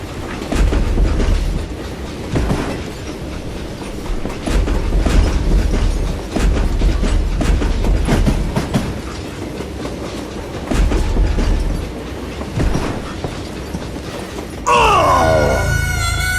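In the video game Call of Juarez: Gunslinger, a train rolls along the rails with loud, rhythmic clickety-clack and rumbling carriage noise, ending in a sharper metallic screech.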